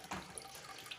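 Water from a Grundfos twin impeller regenerative booster pump rated at 3.0 bar runs and splashes steadily as it fills, a faint, continuous hiss with small uneven gurgles.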